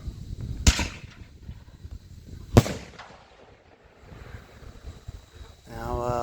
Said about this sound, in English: Alright, now a 5-inch canister.